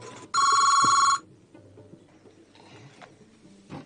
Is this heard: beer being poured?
no